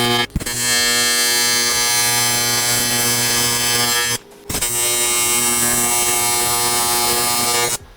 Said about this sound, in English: Honestly, not a bad way to weld aluminum.